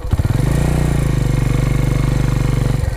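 A motorcycle engine revs loud and close on takeoff with a rapid, steady throbbing pulse throughout and no talk.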